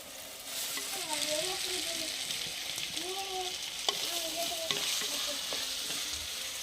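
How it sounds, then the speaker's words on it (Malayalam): Jackfruit seeds, garlic, green chillies, plantain and brinjal sauté in hot oil, giving a steady close sizzle while a spoon stirs and scrapes the pan with a few sharp clicks, and no talking. "നമുക്കിനി ചക്കക്കുരു, വെളുത്തുള്ളി, പച്ചമുളക്, ഏത്തങ്ക, കത്തിരിക്ക ഇതെല്ലാം കൂടെ ഒന്ന് ചേർത്ത് കൊടുക്കാവേ."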